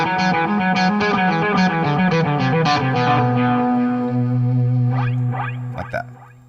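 Distorted electric guitar through a Line 6 Helix, with a descending lick and dotted-eighth slapback delay: dense, echoing repeats that wash over a held low note, then a few scratchy trailing hits as the sound fades.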